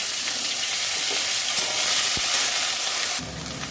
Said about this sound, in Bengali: আদা রসুন বাটাটা ভাজা হয়ে গেছে